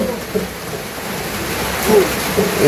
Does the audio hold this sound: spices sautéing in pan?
no